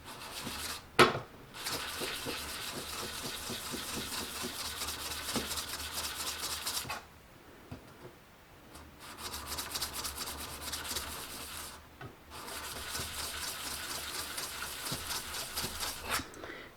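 Steel wood scraper blade face polished by rubbing back and forth on a sharpening stone, long runs of quick steady scrubbing strokes broken by two brief pauses, close but fairly quiet, with no talk.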